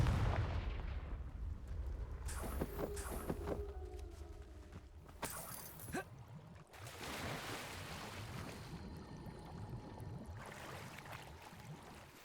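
Confringo fire-blast spell cast in the game Hogwarts Legacy, heard as a series of sharp explosive bursts and crackles over a rumbling, rushing background, with no talk.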